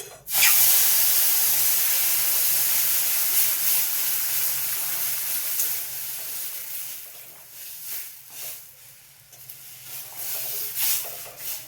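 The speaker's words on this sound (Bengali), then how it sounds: "এই দেখো সুজিটা লাল হয়ে গেছে, এবার আমি জল দিয়ে দিচ্ছি" Water hits roasted semolina in a hot pan, bursting into a loud, steady steam hiss that gradually softens into uneven bubbling and sputtering.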